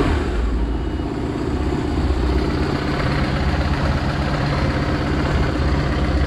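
A BMW R1100GS motorcycle engine idles steadily after an oil change, giving a loud, close, continuous low rumble with an even throb and no talking.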